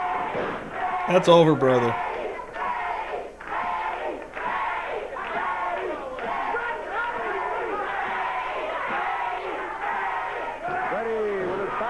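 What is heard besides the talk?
wrestling arena crowd cheering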